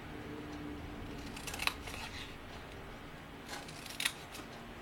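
Scissors snip through paper along a score line in a quiet craft setting, two brief close cuts separated by a pause, faint and crisp against low room noise.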